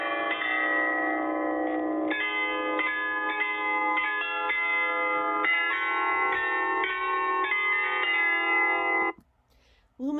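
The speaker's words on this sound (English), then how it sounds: "The tower's 35 bells chime 3 times a day." Carillon of 35 bells in the Salzburg bell tower, about 150 feet above the town, ringing a continuous, loud overlapping melody of struck bell tones that stops abruptly near the end.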